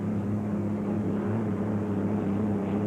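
Unlimited hydroplane racing boats roar through a heat at the 1982 Emerald Cup, a steady, droning engine rumble with a strong low tone held throughout, heard from a distance with no talk.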